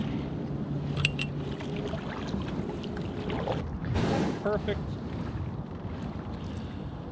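Kayak paddling through weedy winter water, with steady wind rumble and a brief burst of splashing midway; a voice speaks briefly.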